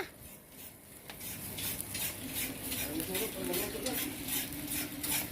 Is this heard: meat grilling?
yes